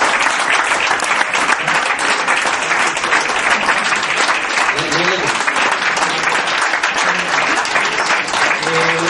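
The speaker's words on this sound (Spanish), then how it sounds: "aquí por favor que te den un aplauso" A crowd at a golf club honours ceremony claps in a loud, dense, continuous burst of applause, with a few voices and cheers rising faintly through it.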